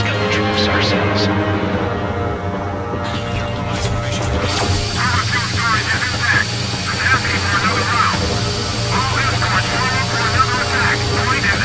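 Military aircraft roar overhead in the game Ace Combat 7: Skies Unknown, a loud continuous engine drone with rushing whooshes and rumbles throughout, and voices talking over it.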